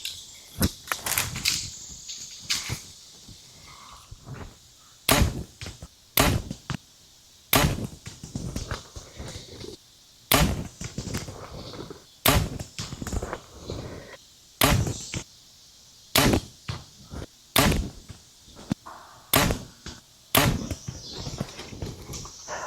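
Arrows fitted with Keaup lighted nocks are shot from an archery bow over a few rounds, giving a long series of sharp, loud, separate thwacks with short quiet gaps between them and no voices.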